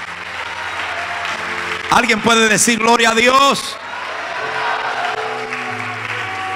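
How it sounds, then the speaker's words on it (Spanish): Church congregation applause during a Spanish-language sermon by a pastor, a steady broad patter of many hands that keeps going under and around a loud preacher's voice breaking in at the center. "Vamos a sellar eso con un aplauso más al Señor"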